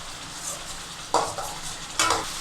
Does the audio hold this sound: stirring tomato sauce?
yes